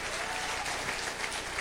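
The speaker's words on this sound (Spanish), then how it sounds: "Dale un fuerte aplauso al Señor." A church congregation gives a loud, dense round of applause, steady clapping filling the room for the whole stretch with faint crowd murmur underneath.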